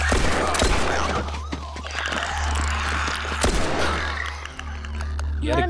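Gunfire in The Last of Us, several sharp shots and bursts popping over a steady low rumble of game ambience, with voices talking throughout.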